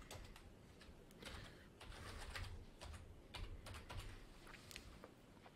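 Someone types a username and password on a computer keyboard, producing quick, irregular key clicks close by, with faint bird cooing in the background and no speech.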